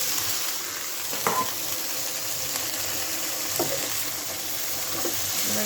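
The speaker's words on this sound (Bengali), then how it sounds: "কষানো মশলাতে দিয়ে দেব ফুলকপিগুলো।" Cauliflower florets drop into a cooked spice paste and fry with a continuous loud sizzle and hiss, broken by a few soft stirring knocks.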